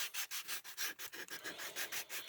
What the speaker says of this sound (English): typically what I do is I like to use a 220 sand block